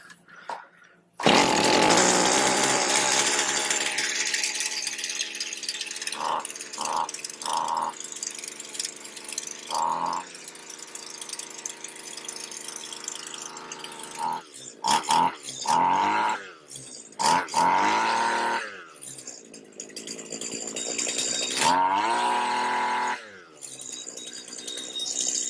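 A Stihl string trimmer engine starts up after a coil fix and carb rebuild, then runs with a loud, buzzing two-stroke drone. It revs up and down repeatedly with throttle blips and briefly drops to idle, heard up close.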